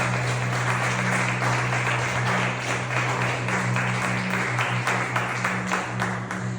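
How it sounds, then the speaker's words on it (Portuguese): A church congregation claps during a sermon, a sustained wash of many hands over a low steady hum, lasting several seconds without spoken words. "Você pode aplaudir o nome do Senhor."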